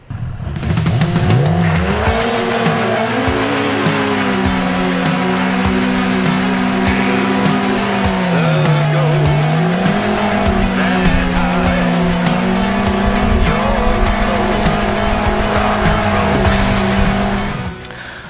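A motorcycle burnout: a loud, sustained tire squeal over a steadily roaring engine, the pitch wavering as the rear wheel spins in place for many seconds without a break.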